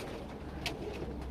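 Breeding pigeons in a loft give soft, low throaty coos over a steady ambient hum, with one brief sharper chirp near the middle, close and fairly quiet.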